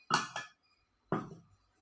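A utensil clinks and scrapes against a bowl while mixing wheat flour batter with powdered roasted flattened rice for mango paniyaram, giving two quick knocks, a pause, then another clink, close and clear.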